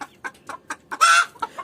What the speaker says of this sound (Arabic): طبعا ده الديك والديك التاني ده والفرخة دي والفرخة دي